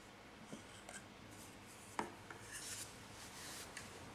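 A fingertip rubbing across a Montessori sandpaper number, a soft dry rasping scrape in short strokes, quiet and close, with one sharper tap partway through.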